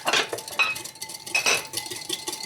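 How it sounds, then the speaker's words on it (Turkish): A whisk beats sugar in a bowl until it melts, giving close, rapid metallic clinks and scrapes in uneven bursts against the bowl. "Şöyle şekerler eriyinceye kadar çırpıyorum"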